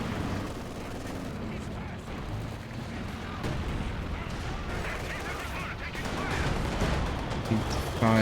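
Artillery barrage from a caddy in a competitive multiplayer war game, a dense continuous rumble of distant shelling with sharper impacts near the end, heard under voice commentary.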